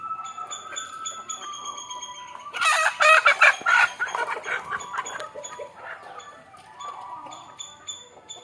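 A rooster crows loudly and nearby amid a continuous chorus of hens clucking, with fainter crowing and clucking before and after.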